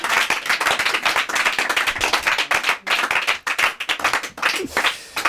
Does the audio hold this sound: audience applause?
yes